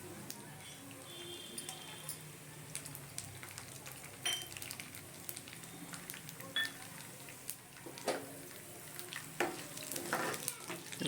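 Urad dal and chana dal fry in oil for lemon rice, a soft continuous sizzle broken by occasional sharp pops and spoon clinks, fairly quiet and close.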